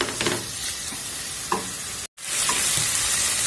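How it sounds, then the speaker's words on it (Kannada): Tomatoes, onion, salt and turmeric frying in a pan while being stirred, a steady sizzle broken by a few scraping strokes of a spoon, heard up close with a brief dropout in the middle. "ಉಪ್ಪು ಅರಿಶಿನ ಹಾಕಿದ್ಮೇಲೆ ಟೊಮೊಟೊ ಎಲ್ಲ ಮೆತ್ತಗೆ ಆಗೋ ಥರ ಚೆನ್ನಾಗಿ ಉಟ್ಕೊಳ್ಳೋಣ"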